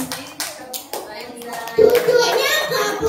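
Children in a kindergarten Ramadan class clap their hands in a series of sharp, uneven bursts, then join in louder rhythmic clapping, mixed with a voice.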